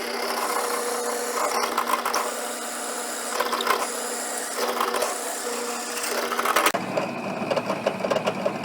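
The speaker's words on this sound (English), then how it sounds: "I'm ready to begin drilling the blank." A steady whirring drill bores holes into a wood blank, with a continuous mechanical buzz that shifts slightly in pitch, then changes character near the end.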